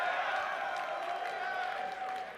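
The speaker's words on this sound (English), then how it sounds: "Can we get a cheer for that Dignitas team comp real quick" A packed esports arena crowd at the IPL4 event in Las Vegas sends up a steady wash of cheering and applause, loud and continuous throughout before easing slightly at the end.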